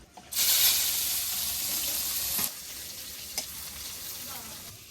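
Onions hitting hot oil spiced with black cumin and bay leaves for fish curry, a loud bright sizzle bursting up that then settles into a quieter, steady frying hiss with a light clink or two.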